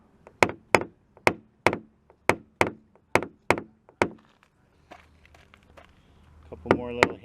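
A steady series of about a dozen crisp taps on a high spot of a BMW M3 panel during dent repair, evenly paced and close, followed by a quieter pause with faint clatter.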